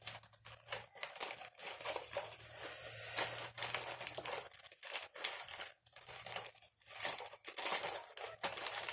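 A scrap of thick paper is handled up close for a junk journal, giving steady crinkling and rustling with irregular soft crackles throughout, alone without talk.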